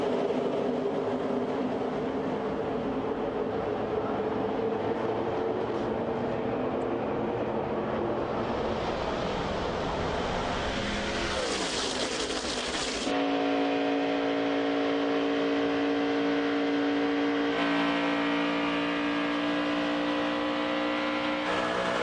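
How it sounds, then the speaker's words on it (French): NASCAR Nationwide Series V8 stock cars race at Daytona, a continuous loud engine roar that swells as the pack passes and then settles into a sustained high drone. No voices are heard. "monter le son à fond chez vous et profiter de ces V8."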